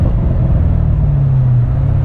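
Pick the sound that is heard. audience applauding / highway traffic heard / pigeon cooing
highway traffic heard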